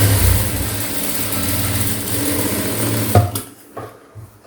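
A sewing machine hums steadily at close range while stitching a quarter-inch blouse seam, then stops abruptly, followed by a few light clicks.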